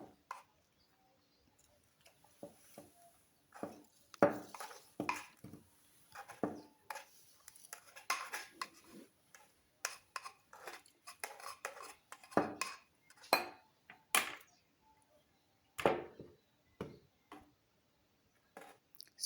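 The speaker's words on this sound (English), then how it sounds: "We are just transferring it in our jar." Homemade moringa paste scraped and spooned into a jar, giving a run of sharp, close clinks and taps of utensil against glass in irregular bursts, with no talking.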